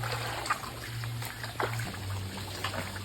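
Weak trickle of water in a shallow countryside stream where snails are gathered, faint and steady with soft bubbling dribbles and a low background hum.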